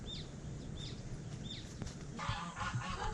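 Geese honk several times in short separate calls, three clear honks in the first two seconds, then a busier stretch of overlapping calls and rustling at moderate distance.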